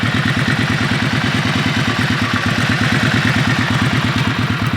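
A motorcycle engine runs steadily at a close, loud idle on a cheaply revived used bike, with an even, rapid thumping pulse and a mechanical clatter throughout.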